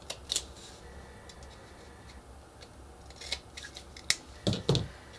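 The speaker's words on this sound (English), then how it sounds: "On an inside corner, you just have to make a single cut." Scissors make a cut into an inside corner of a small model part, giving a few quiet, sharp snips and clicks scattered over a soft background, close up and without speech.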